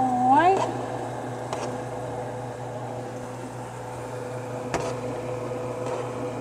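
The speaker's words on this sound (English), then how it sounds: "Make sure I check the microwave so it's not gone past the" A microwave oven runs with a steady low hum throughout while chicken for Alfredo heats inside, a brief high rising tone near the start and faint clicks scattered through the quiet kitchen.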